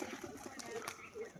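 A male pigeon coos in a short low burble, with soft repeated throaty notes close by, while a person talks over it.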